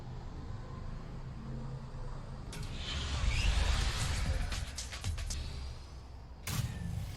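Hoverboard riding in Fortnite, a steady whooshing glide with a low rumble that swells midway and ends in a sharp burst.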